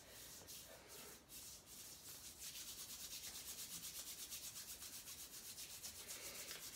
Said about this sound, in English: let's create a little heat in our hands to start, a little friction, circling and rubbing.